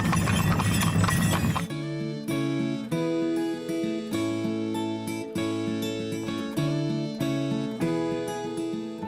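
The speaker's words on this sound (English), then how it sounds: "we opted for a little carriage ride towards Lake Launen. The mountains pass by, the moment is magical, punctuated by the pounding of hooves." Horse hooves clip-clopping as a horse-drawn carriage rides toward Lake Launen near Gstaad. A brief burst of noise comes first, then steady tonal music dominates while faint regular hoof beats run underneath, with no speech.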